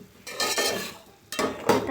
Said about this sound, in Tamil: சிக்கன் நல்லா ஃப்ரை ஆகிடுச்சு.